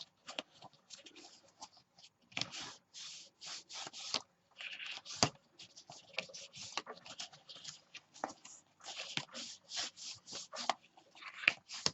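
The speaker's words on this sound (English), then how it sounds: "going to go ahead and rock them back and forth because I want to get the pages ready so it's easier to fold your pages over" Mini album pages from an Authentique Charmed kit are rocked back and forth to loosen their hinges, making a run of soft, close paper-and-board rubbing swishes in an irregular, repeated rhythm.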